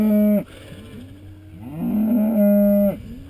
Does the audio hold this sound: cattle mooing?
yes